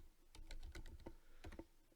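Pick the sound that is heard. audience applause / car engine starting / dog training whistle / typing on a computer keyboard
typing on a computer keyboard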